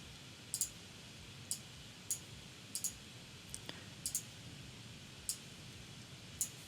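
Computer mouse clicks in 3D printing connector software, about a dozen faint, sharp single and double clicks spaced irregularly against a quiet background.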